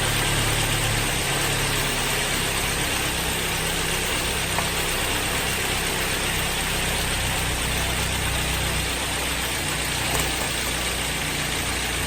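A car engine idles steadily nearby while powering a 500W power inverter, a constant low hum and rumble with no change in pitch for the whole stretch.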